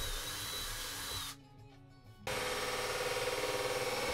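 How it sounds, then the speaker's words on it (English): A power drill bores holes into the wooden trim of a boat, whirring loudly and steadily, stopping briefly in the middle, then restarting with a higher, rougher motor whine. "Ty decided to start drilling some more holes in the boat, because that's what we do, this time in the woodwork."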